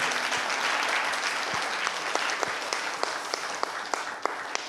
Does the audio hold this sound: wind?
no